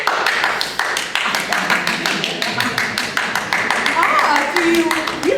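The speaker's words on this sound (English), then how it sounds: "Now clap your hands together." Hands clapping in a stage performance of The Little Prince, a rapid run of sharp claps keeping a fast steady beat, with voices talking over them.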